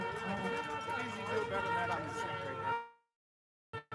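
A person at an outdoor rally imitates a siren with a loud, wavering voice that rises and falls for nearly three seconds, then cuts off into silence before brief talk.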